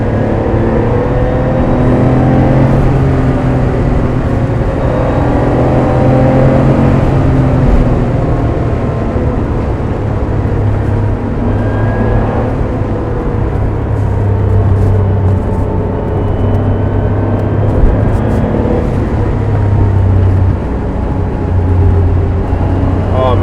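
A classic Porsche 911 Carrera pushes along winding roads, heard from inside the cabin: a loud, steady engine drone that rises and falls with gear changes and throttle, constant throughout.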